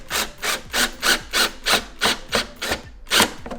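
Screws are tightened on a Mach 1 car bumper with about ten quick, evenly spaced rasping strokes, close and fairly loud, each a short scrape with a brief pause between.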